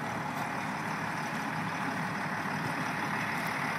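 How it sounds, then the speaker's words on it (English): Several tractors and earth-moving machines idling together outdoors, a steady, dense diesel rumble with no breaks and no talking. "Got all kinds of tractors and shit running out here."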